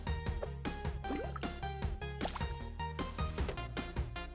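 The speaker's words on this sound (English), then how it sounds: "I need to fill this up with water first" A potion vessel fills with water in the Potion Party video game, a quick run of bright bubbly drips and gurgling fill sounds over a steady cartoonish game backdrop, loud and close with no talk.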